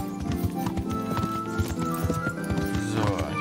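A horse ridden in Kingdom Come: Deliverance trots along with a steady, rhythmic clip-clop of hooves, close and continuous over game ambience, with a whinny near the end and voices talking.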